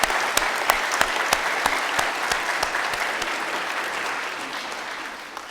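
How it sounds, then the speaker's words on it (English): An audience at a Martin Luther King celebration in Bellingham claps hands, a steady burst of applause with a few sharp individual claps standing out, gradually thinning toward the end. "If you love all culture, would you please clap your hands?"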